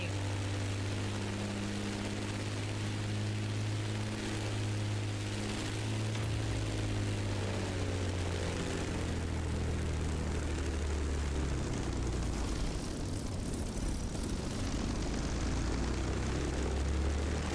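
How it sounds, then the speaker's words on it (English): A Granville GBR Super Sportster racing propeller plane flies in The Crew Motorfest, its engine droning loud and continuous with a steady whirring tone that shifts in pitch as it moves. "It may be chubby, yet this plane was actually made for racing."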